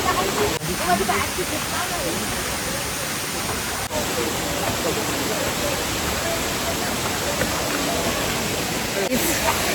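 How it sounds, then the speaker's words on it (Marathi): A waterfall near the Kondhana caves pours down with force, making a loud, continuous roaring rush of water close by that fills the whole stretch without break. "पाणी खूप फोर्सने वरतून पडतो"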